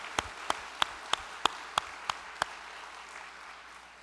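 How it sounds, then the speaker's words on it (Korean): Applause from a church congregation comes as eight crisp claps in an even, steady rhythm, after which the room settles into quiet. "여러분 큰 격려의 박수를 보내주시면 감사하겠습니다"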